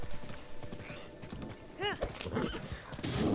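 Horse riding in Zelda: Breath of the Wild, with hooves clip-clopping throughout and a brief whinny near the middle, mixed with game noises and light background voice.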